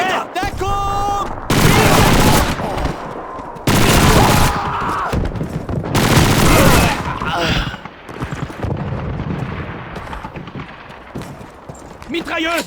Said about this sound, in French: Mitrailleuse! Une MT-42!